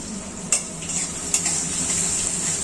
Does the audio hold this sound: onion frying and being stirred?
yes